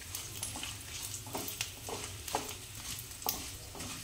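Chillies, peanuts, urad dal and curry leaves sauté in a pan for lemon rice, a faint soft sizzle broken by periodic spoon scrapes and taps against the pan.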